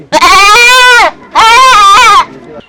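A goat gives two long, loud bleats close by, each wavering call lasting about a second with a short pause between, and no other sound around them.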